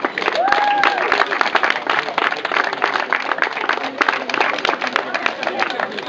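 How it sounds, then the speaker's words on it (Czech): Applause from an audience at a school awards announcement for third place, a dense, continuous clapping heard close and alone, holding steady for several seconds. "Tak rozhodně ocení velikým potleskem"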